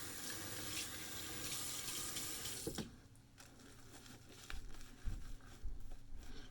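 A tap runs steadily with a hissing rush of water while preparing shaving soap, stopping abruptly partway, followed by faint drips and small handling noises.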